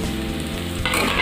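Chopped onions sizzle and fry in a pan for an egg chicken korma, a continuous close crackle that brightens toward the end, with no talk.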